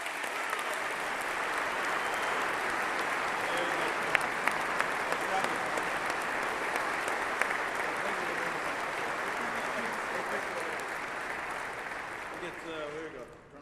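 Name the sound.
audience round of applause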